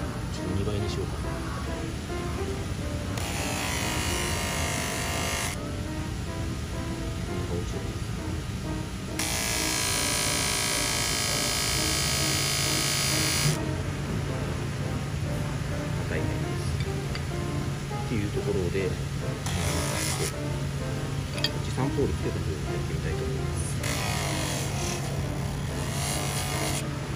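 Rust being polished off a piano pedal with abrasive compound makes a steady buzzing, rubbing sound. It swells in several louder bursts as the polishing tool works the metal.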